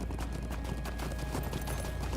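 Travel horses clip-clopping along in the LOTRO online game, a steady run of hoof beats over a constant ambient bed with a faint tonal hum, no talking.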